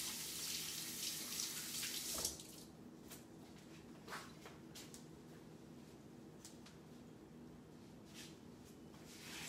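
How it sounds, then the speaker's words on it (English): Tap water runs into a sink while hands are washed, a steady soft splashing stream with brief louder gushes, fairly quiet and without talk. "Wash off your hands."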